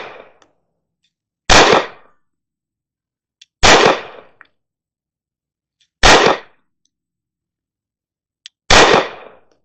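A Springfield Emissary 9mm pistol dry-fired four times in a quiet room, each a sharp, loud metallic snap with a brief ring-off, spaced about two seconds apart with near silence between.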